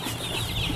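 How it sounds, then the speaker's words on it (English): Meat chickens in a chicken tractor on a farm, 500 birds to a tractor, clucking and chirping together in a loud, close, continuous chorus. "I've only ever raised meat birds in like the Joe Salatin style chicken tractors"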